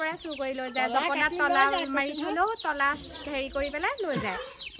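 Local chickens cluck and chatter close by in a continuous, animated run of short rising and falling calls, with little pause between them.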